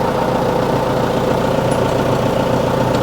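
Steady, loud, close diesel idle of a Case 1845 skid steer after a fuel pump install, a constant low throbbing drone with no change in pace and no talking.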